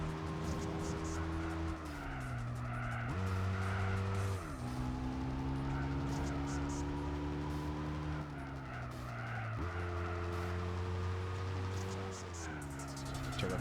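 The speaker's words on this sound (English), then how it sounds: "Turbo cars have different sounds." Turbocharged race cars in the PlayStation 2 game Gran Turismo 4 roar continuously with rising and falling revs across gear shifts, tires squealing throughout, loud and steady for the whole stretch.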